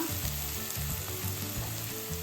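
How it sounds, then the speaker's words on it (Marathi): Steady crackling sizzle of onions frying in a hot pan, continuous and close, with no voices. "आपण आता छा कांदा छानपैकी असा गुलाबी रंगावरती परतून घ्यायचा"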